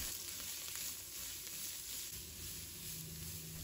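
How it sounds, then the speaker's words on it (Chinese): Carrots and corn stir-fry in hot oil in a wok for a dumpling filling, producing an even, quiet, hissing sizzle that holds steady throughout without speech. "油热之后，把胡萝卜和玉米放入锅中，把它炒出水分，炒出香味"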